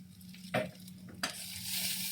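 Salted onion being stirred and fried in a pan: two scraping stirs cut through a soft, steady sizzle that swells louder toward the end, heard close with no talk.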